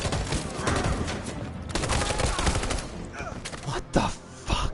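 Rapid machine gun fire in Detroit: Become Human, dense sustained bursts with scattered impacts, loud and close, some voices faintly underneath.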